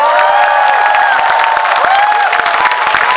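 Crowd cheering and applauding at a Paju outdoor election campaign rally, a dense, steady roar of clapping and shouts with whoops rising above it throughout, loud and close, no speech standing out.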